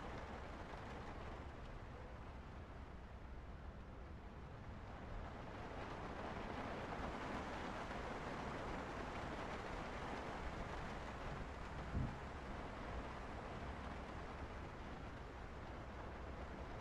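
A thunderstorm in Project Zomboid brings a steady hiss of rain and low rumbling wash that runs without break, quiet and broadband, with a single soft thud midway and no voices.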